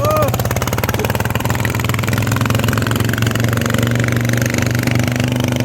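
A walk-behind tractor set up for racing in fourth gear runs steadily on clay soil, a loud close engine drone with a continuous pulsing rhythm throughout.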